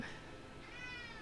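A cat meows softly once, a brief, faint cry heard close by in a quiet room.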